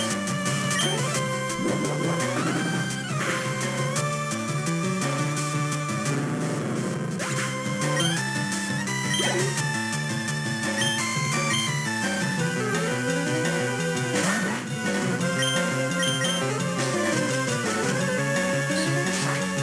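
Pokemon Leaf Green battle audio plays on its own: continuous, busy electronic game music with bright tonal melodies and effects at an even level, with no voices.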